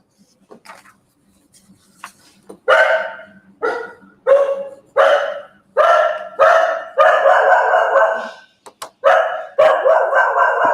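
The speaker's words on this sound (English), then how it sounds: "Excuse the dog, she will be quiet in a minute." A female dog barks repeatedly indoors near a workshop build, starting with faint yips and then a steady run of loud close barks spaced under a second apart.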